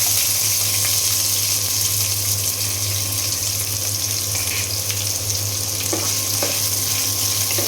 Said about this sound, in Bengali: তেল গরম হয়ে গিয়েছে দিয়ে দিলাম দুই টুকরা দারুচিনি এলাচ লং আর পেঁয়াজ কুচি